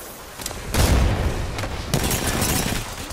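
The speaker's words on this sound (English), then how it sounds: "I just threw a sky nade." A grenade thrown high in Apex Legends explodes with a loud, close boom, followed by a second sharp blast and crackling gunfire over a low rumble.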